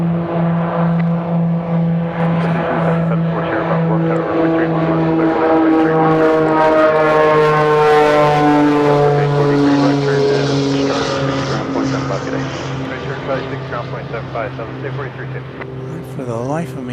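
Beechcraft B-60 Duke twin-engine aircraft rolling out at Dallas Love Field, its loud steady propeller drone with harmonic tones rising and shifting over about seventeen seconds, with a voice talking over it.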